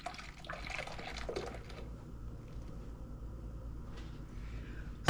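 Guinness stout poured into a mixing bowl for a Jamaican Easter spice bun, a steady liquid splash and gurgle running nearly the whole time at close range with no talking.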